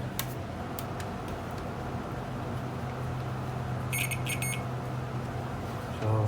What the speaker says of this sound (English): So we are just going to test continuity.